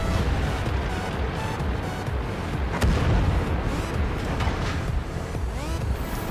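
Tank cannon fire in World of Tanks comes through as heavy booming shots over a dense, continuous rumble of engine and battle noise, with a sharp crack near the middle.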